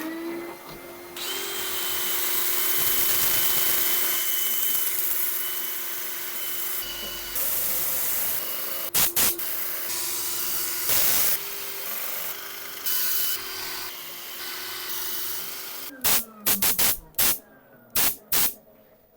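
Sanding of 50,000-year-old kauri wood spinning on a lathe: a steady motor hum under continuous abrasive rubbing, broken by several sharp bursts and scrapes near the end.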